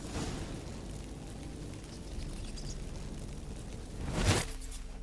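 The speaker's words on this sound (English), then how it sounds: "Get ready for some magic fireworks." Magic fireworks from a video game burst once, with a short bright crackling pop near the end, standing out over a steady rumbling game soundscape.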